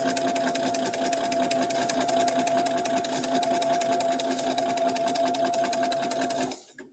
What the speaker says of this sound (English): is it sewing? Yeah, it's sewing